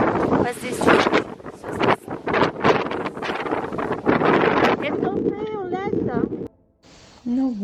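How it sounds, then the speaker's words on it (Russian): Strong gusty wind buffets the microphone outdoors in loud, uneven roaring bursts, with people talking briefly over it and a short lull near the end. "Какой ветер?"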